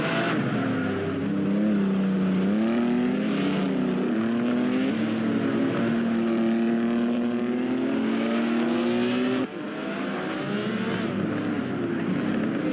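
Vintage 1950 Ferrari and Alfa Romeo Grand Prix cars race on the Pau street circuit, a sustained, droning engine note that rises and falls through gear changes, heard from a moderate distance with no talk.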